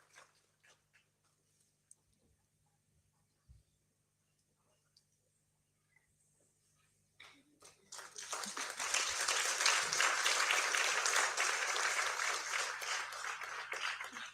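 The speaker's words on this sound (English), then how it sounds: "Please give big applause to them." Audience applause breaks out after a stage performance at an India-Japan partnership event in Nagano, starting after a few sparse ticks and then swelling into a broad, sustained clapping that carries on to the end.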